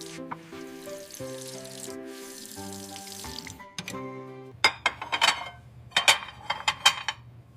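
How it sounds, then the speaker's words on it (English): Water runs from a kitchen tap into a sink while a plate is washed, with clinks and splashes in bursts, set against steady background music. "I will wash the plate."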